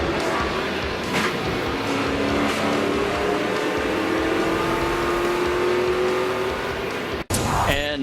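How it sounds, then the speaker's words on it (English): A 2009 NASCAR Nationwide race car at the US Cellular 250, heard from on board: a loud, steady engine drone with a slowly climbing pitch, a brief cut near the end, then a sharp change in tone. "Taking one more look from on board Trevor Bayne's car as we head to commercial."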